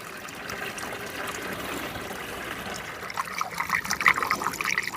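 Coolant premix poured into the cooling system of a Volvo 740 during an overhaul, a steady close trickle that turns splashier and gurgling near the end.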